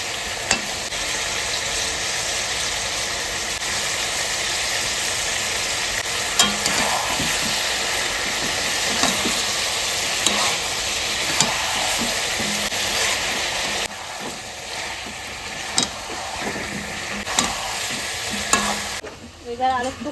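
Mutton sautés in oil with turmeric in a pan, giving a steady close sizzle broken by repeated scraping stirs of a spoon, with a short pause near the end.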